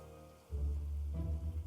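Steady rain ambience for a tabletop role-playing session scene, a dense wash of falling rain that swells in suddenly after a brief quiet moment and holds at a constant level, with no voices.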